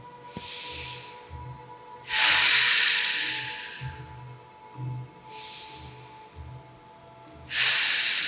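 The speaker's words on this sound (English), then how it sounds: "breathing in through the nose and out through the mouth. Big, deep belly breaths" Deep belly breathing, drawing air in through the nose and releasing it out through the mouth; close, slow cycles of soft nasal inhales followed by louder, breathy exhales, repeated alone without talk.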